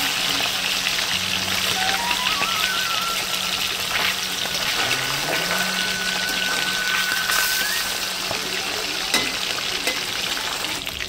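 Meat frying in hot oil in a wok, part of a village-style biryani being cooked, giving a steady, loud, continuous sizzle with faint background tones.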